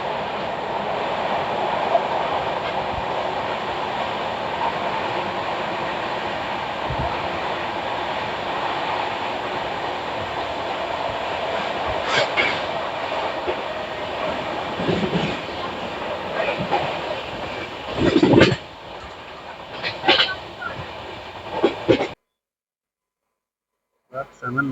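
A passenger train with ICF coaches, running as a Nagpur–Shahdol special near Madan Mahal in Jabalpur, rumbles along the rails with a steady rolling roar and sharper clacks toward the end, while voices talk at times.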